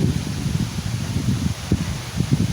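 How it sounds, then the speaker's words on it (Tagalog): Strong wind blowing outdoors along a seaside village road near a basketball court, with big waves offshore; a steady rough rushing and buffeting roar, low and continuous, gusting up and down without pause. "Malakas nga ang hangin."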